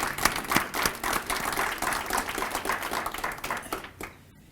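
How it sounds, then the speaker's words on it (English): Audience applause at a charity fuel-assistance fund's kickoff breakfast, a steady patter of many hands clapping in a large room, fairly distant and moderate in level, tapering off at the end. "So I think that deserves a round of applause."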